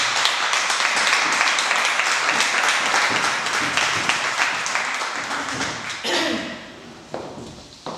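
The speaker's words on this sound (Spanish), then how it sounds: "Muy bien, un aplauso." Audience applause at a talk or presentation event: a full, steady burst of clapping from a seated crowd that thins out after about six seconds, followed by a few scattered claps and thuds.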